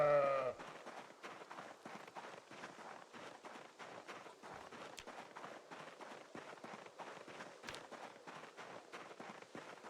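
A sheep bleats once, clearly and briefly, at the start of a video game scene, then only a steady soft bed of rustling and footstep-like taps carries on.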